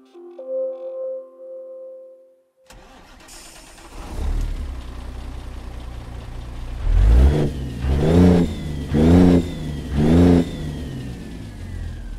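A heavy truck engine in American Truck Simulator with the Z-Mods sound set cranks and fires up after a brief quiet moment, then settles into a rumbling idle and gives four loud, evenly spaced revs, heard close and alone.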